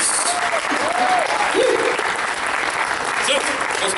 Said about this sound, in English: Huge round of applause again, please, for Joe Cunningham and the Washington Autism Alliance.